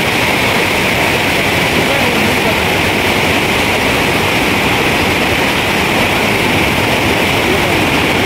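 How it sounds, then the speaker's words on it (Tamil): Rushing water at Hogenakkal falls, where the flow runs over a bridge on the way to the main falls, a loud, constant roar of broadband noise with no breaks. "பாலத்து மேலே தண்ணி போயிட்டுருக்கு."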